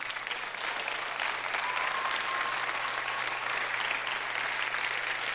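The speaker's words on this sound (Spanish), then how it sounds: "Den un aplauso al Señor." Church congregation applauding steadily during a sermon, a dense continuous wash of clapping that holds evenly throughout.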